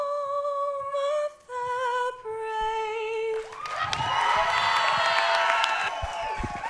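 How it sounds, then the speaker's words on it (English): Stadium crowd at a New York Rise vs. Oklahoma City Spark game breaks into loud cheering, whooping and applause as a sung anthem ends, the roar swelling and sustaining over the final seconds. "a huge applause for pitcher Maddie Penta, who sang the national anthem just now"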